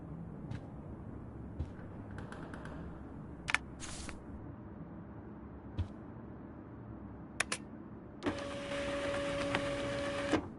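A printer in the video game Life Is Strange: scattered clicks and mechanical ticks lead into a steady whirring print run near the end, quiet and close with no talking.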